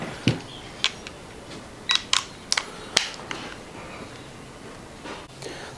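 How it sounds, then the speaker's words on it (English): A torque wrench clicks sharply as bolts on a 4L60E transmission are tightened, giving several distinct snaps spaced irregularly over a quiet background. "now I'm going to torque them down"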